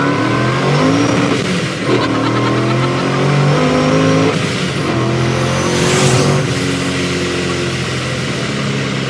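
Hot rod car of about 1,000 hp, supercharged, pulling hard in second gear: a loud, continuous engine roar climbing steadily in pitch, heard from inside, with wind noise building.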